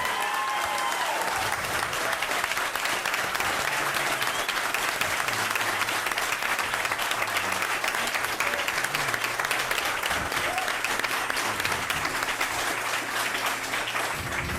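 A live audience at a recorded podcast show in New England applauds continuously, a thick, even wash of many hands clapping at moderate level, with faint low murmurs underneath.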